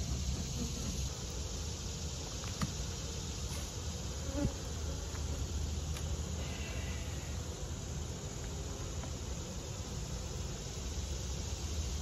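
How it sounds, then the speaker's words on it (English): Dense, steady buzzing of many honey bees crowding the top of a hive close by, a continuous drone filling the whole stretch with no voices. "we have lots of bees to the top of this hive"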